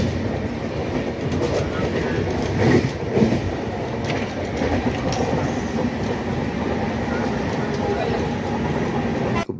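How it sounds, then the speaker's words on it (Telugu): An express train from Chhatrapati Shivaji Terminus to Bhubaneswar rolls past nearby with a steady loud rumble and clattering wheels, and a voice is heard faintly under the noise. "ఛత్రపతి శివాజీ టెర్మినల్ ఎక్స్ప్రెస్ బొంబాయి నుంచి భువనేశ్వర్ వెళ్ళే ఎక్స్ప్రెస్ అండి"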